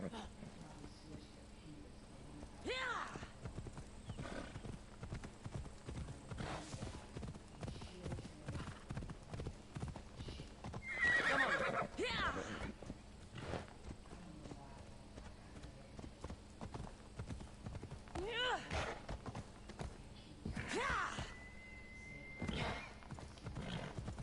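Horse hooves gallop in the video game Skyrim as a steady clip-clop rhythm throughout, with occasional neighs and a voice talking over it.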